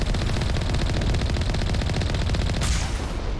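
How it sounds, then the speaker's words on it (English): Sustained rapid gunfire from a shooter game, Mass Effect Legendary Edition, loud and continuous with dense repeated shots throughout, ending in a brighter burst near the close, with no talk over it. "Oh, somebody's shooting at me?"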